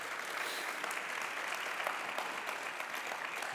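An audience at a conference claps in a steady, moderately distant round of applause, dense and even throughout.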